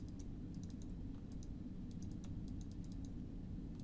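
Three quick clicks of a computer mouse while selecting objects in SketchUp Pro, faint and crisp, following each other in short bursts over a low steady room hum, with no talking.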